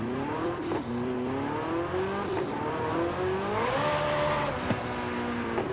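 A tuned V10 engine making about 1400 horsepower revs and races in Forza Horizon 5, its pitch climbing and shifting through gears in a continuous strained drone with faint tire squeal.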